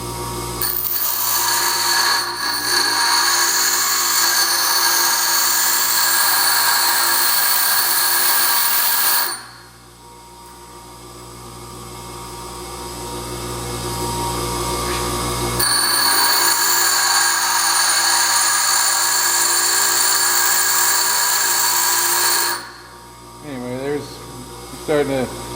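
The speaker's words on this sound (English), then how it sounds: "this is a Momax Cobalt, so it's a little harder to grind than just plain high speed" A Momax cobalt tool bit is ground on a bench grinder in two long loud bursts of high whining grind, separated by a quieter lull where the wheel spins down and back up, with brief voice near the end.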